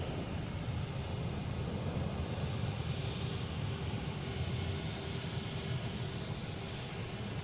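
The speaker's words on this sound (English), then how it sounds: "we have Delta taking off, heading to Charlotte. E175, flight" Delta Embraer E175 jet taking off from Boston Logan, bound for Charlotte, with a sustained, even engine rumble and hiss heard from a distance, no voices.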